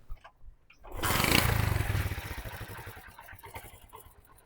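A motorbike engine fails to start, giving a sudden loud cranking roar that sputters, fades into uneven chugging and dies away without catching.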